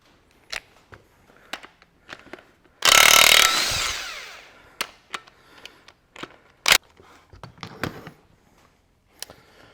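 A Makita cordless power tool rattles engine bolts loose on a Massey Ferguson 65 tractor, one loud burst of about a second amid scattered clanks and clicks of workshop handling.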